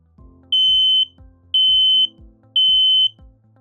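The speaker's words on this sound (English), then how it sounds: "all interconnected smoke, heat, and Smart Interconnect CO alarms sound the smoke horn pattern" A BRK interconnected smoke alarm sounds its smoke horn pattern: three loud, shrill half-second beeps at a steady one-second rhythm, heard close over a low rumbling, thumping background.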